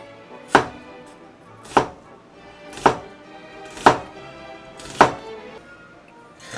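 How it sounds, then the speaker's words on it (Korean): A knife chops onions on a cutting board in five sharp, evenly spaced thunks about a second apart, close and clear over a quiet kitchen background. "요즘 뭐 네, 양파 자른 건 일도 아니야"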